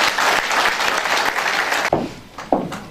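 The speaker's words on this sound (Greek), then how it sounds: "Να τις χειροκροτήσουμε." Applause at an honorary award ceremony in Zaros, a steady crowd clapping that fades partway through, followed by a few short bursts of sound near the end.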